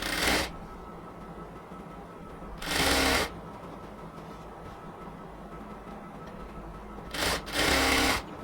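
A sewing machine stitches the side seam of a cotton kameez in short runs, each a close, rattling whir, heard three times over a steady background hiss.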